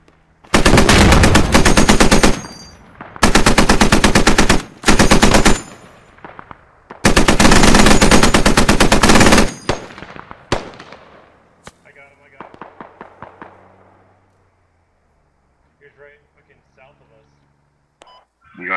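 A mounted gun in the Squad video game fires loud sustained bursts, three long rattling volleys with short gaps, then scattered quieter shots and faint distant battle noise.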